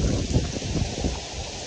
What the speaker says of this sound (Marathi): पण काही हा पाऊस काय थांबत नाहीये